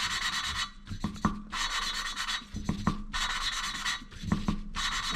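An engine valve being lapped against its seat gives a gritty, rasping rub in repeated back-and-forth strokes. Short bursts are broken by brief pauses and soft knocks as the valve is repositioned, heard up close with no talking.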